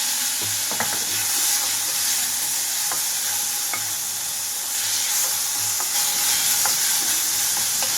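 Mint leaves and chopped tomatoes sizzle and fry in a tablespoon of oil in a pan, with a steady close hiss and occasional stirring clinks, no talking.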